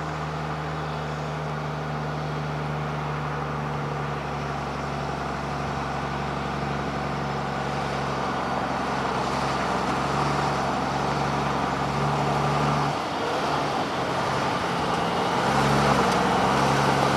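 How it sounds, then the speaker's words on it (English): A truck rolls past an open gate at a West Virginia Class 2 underground injection well, a steady engine and road rumble that swells and then fades. "I did hear another truck, and here it comes."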